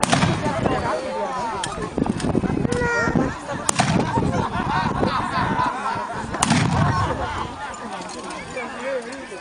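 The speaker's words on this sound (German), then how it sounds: "Das ist eine Kanone" Booming blasts of a cannon firing at an outdoor knights' tournament battle reenactment in Schluderns, South Tyrol, sharp reports among crowd noise with people talking loudly throughout.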